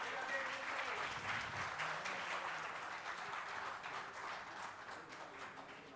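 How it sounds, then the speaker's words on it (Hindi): Steady, dense applause from a large conference audience at an ideas conclave, quite distant and even, filling the whole stretch and easing slightly near the end. "जोरदार तालियां हो जाएं।"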